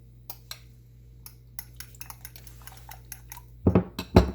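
Egg mixture with green onion being beaten in a bowl, heard as light, irregular taps and clinks of utensil against dish, then a few louder scraping knocks near the end.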